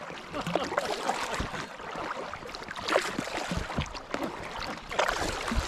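Kayak paddling on Lake Tyers in Victoria, with steady water splashes and paddle strokes heard close, under continuous wind noise.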